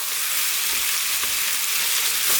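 Canned corned beef hash fries over lively heat in a pan, giving a loud, continuous sizzle and crackle with faint stirring scrapes underneath.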